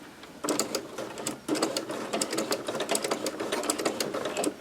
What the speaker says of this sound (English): Taking about 5 stitches. And then I'm going to back stitch those 5 again